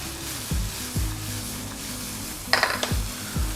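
Three chopped onions with half a tablespoon of salt stirred in a frying pan for potato masala, with a spoon knocking against the pan several times over a low sizzle.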